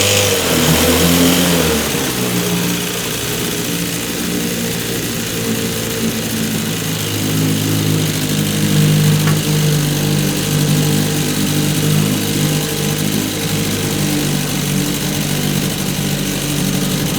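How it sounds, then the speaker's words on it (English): An older 5 HP Evinrude outboard motor runs steadily up close, a loud continuous buzzing drone with a brief rev at the start and no talking. "Little Evinrude 5. Nice little motor."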